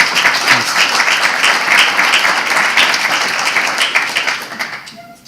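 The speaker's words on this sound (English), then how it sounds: "can we round of applause to the work?" An audience at an education talk on digital identity breaks into sustained applause, a dense wash of clapping that holds steady for several seconds before fading out.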